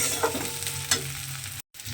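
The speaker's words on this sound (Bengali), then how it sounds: "এবারে আদা রসুনটা দিয়ে খুব ভালোভাবে একটু ভাজা ভাজা করে নেব" Ginger garlic paste frying in a pan, with a close sizzle and scraping stirs that scratch through it in short strokes. There is a brief cut near the end, and no voices.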